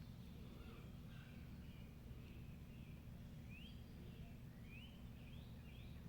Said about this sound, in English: I don't know if you guys can hear the birds in the background.